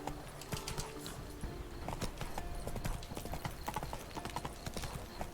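Roach, Geralt's horse in The Witcher 3, trots with brisk, steady hoof clops over ambient game sound, clear and continuous throughout with no talking.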